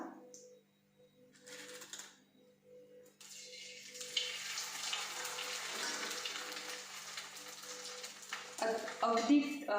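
Rice papad crackling and sizzling in hot oil in a kadhai, a steady broadband frying hiss that swells after a quieter start, with occasional clinks near the end.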